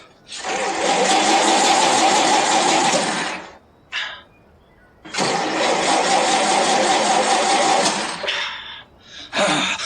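An old car's loud, close engine roars in two long bursts with brief quiet gaps between them, followed by a short final rev.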